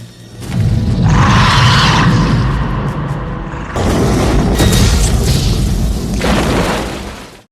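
A large explosive blast booms from inside a cave in a Predator film scene, loud and roaring, with a sustained rumbling body, a brief dip, then a second surge of thunderous roar before cutting off.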